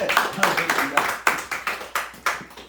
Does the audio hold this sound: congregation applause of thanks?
yes